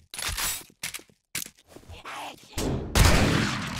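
Gunfire from a weapon in 7 Days to Die, a zombie survival game, in short sharp bursts separated by gaps, growing into heavier sustained firing toward the end, loud and close.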